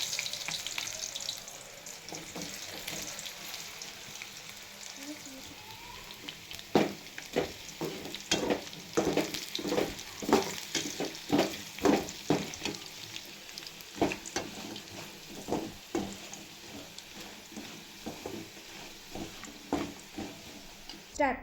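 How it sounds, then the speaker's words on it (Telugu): Potato strips fry in hot oil in a bowl on a stove for French fries, a soft continuous sizzle with a run of sharper, louder crackles and stirring clicks through the middle, a voice talking faintly. "స్టవ్ మీద అయితే ఒక బౌల్ పెట్టుకొని ఆయిల్ అయితే వేడి చేసుకోవాలి. పొటాటోస్ని అయితే వేసుకోవాలి."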